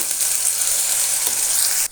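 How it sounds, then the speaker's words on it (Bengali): A spice paste of onion, garlic and chilli hits hot oil in a wok previously used for frying prawns, giving a loud, steady, close sizzle that continues unbroken with no talking. "এবারে চিংড়ি মাছ ভাজার ওই কড়াইতে আবার একটু তেল দিয়ে সমস্ত এই পেস্টটা"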